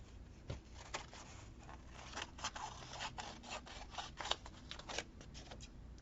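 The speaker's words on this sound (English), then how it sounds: "I guess I'll cut that little ribbon off." Scissors snip through a small ribbon on a handmade paper folio, giving a run of crisp, close cuts and rustles at an uneven rhythm, with no talking.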